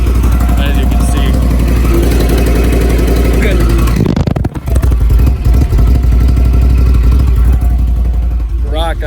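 A 2017 Ford Powerstroke 4x4 diesel pickup covered in snow running loudly close by, with a steady rumbling idle, a brief dip midway as it catches and settles, and people talking over the engine.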